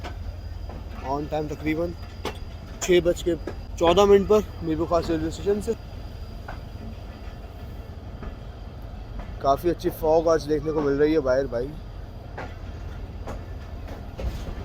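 The Mehran Express runs from Mirpurkhas toward Karachi on a foggy morning behind an HME 8225 locomotive, its steady low rumble and rattle continuous beneath someone talking in two stretches.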